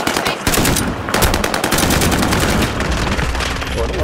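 Rapid automatic gunfire in the video game Call of Duty: Modern Warfare, loud and sustained bursts of machine-gun fire filling nearly the whole stretch, with only a short pause near the start.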